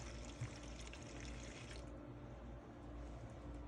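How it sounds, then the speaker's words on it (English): Two cups of homemade wipe solution being poured over paper towels in a container, a soft continuous stream of liquid running steadily and faintly throughout, heard alone. "I'm gonna just pour it in the bottom. We're gonna do 2 cups."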